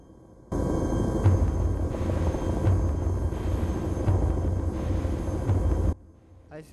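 A Chinook helicopter in the game DayZ, set in Takistan, gives off a loud, steady rotor and engine roar that holds for about five seconds and then cuts off, with a faint regular thump running through it.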